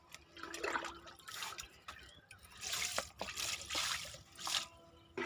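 Kitchen waste liquid is poured directly onto potted garden plants, giving soft intermittent splashes and trickles in uneven bursts, close and fairly quiet, with no talking.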